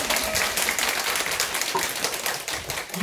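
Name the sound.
church congregation applauding in thanks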